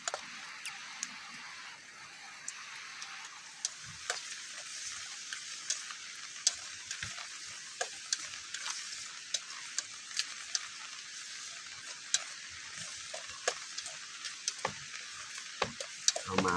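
Pork and vegetables stir-fry in a pan with water added, giving a steady sizzle under frequent sharp clicks and taps from stirring, while rain may patter in the background.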